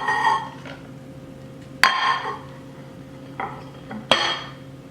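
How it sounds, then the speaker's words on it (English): A knife and fork work at a slice of crock pot pork loin on a plate, giving a few sharp, separate clinks and scrapes of metal on the dish against quiet kitchen background. "So now I'll slice into it so you can see the inside."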